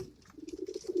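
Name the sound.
pigeon cooing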